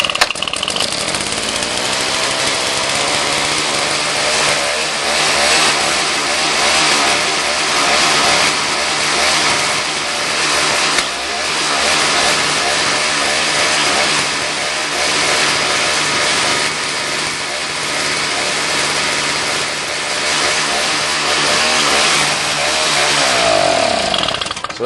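A small carbureted engine with electric start runs after a carburetor rebuild, choke set and primed. It roars loud and close with a constant raspy buzz for the whole stretch.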